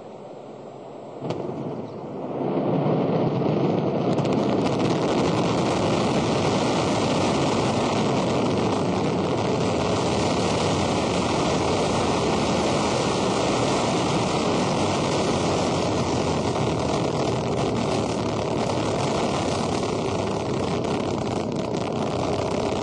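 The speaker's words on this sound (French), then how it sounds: "Allumage des EAP et décollage." Rocket launch at solid booster ignition and liftoff: a massive, continuous roaring rumble that swells within the first few seconds and then holds steady and dense to the end.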